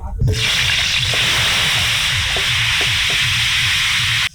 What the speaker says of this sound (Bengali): আলু ভাজার জন্য কড়াইতে দিয়ে দিলাম সর্ষের তেল